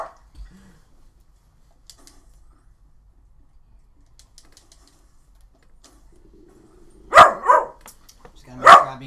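A dog barks indoors near someone playing a video game. A long quiet stretch breaks into a close, loud cluster of sharp barks near the end.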